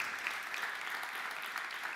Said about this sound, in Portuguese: Pode aplaudir Maria, ela mandou bem.